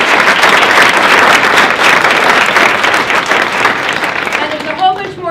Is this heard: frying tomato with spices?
no